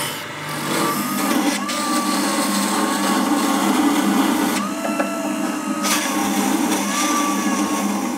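Hard ebony wood being turned on a lathe for a bagpipe part, with a loud, steady grinding hiss and faint whining tones as the tool bites, a couple of brief sharper scrapes breaking the drone.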